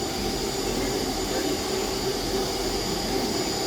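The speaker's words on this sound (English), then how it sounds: "159s are very workhorse sort of engines" A Class 159 diesel train at Exeter, a steady, loud engine drone and hum close by, with no voices over it.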